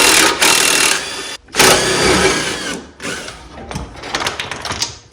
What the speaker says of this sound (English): now I'm going to slack off the bolts off the transmission.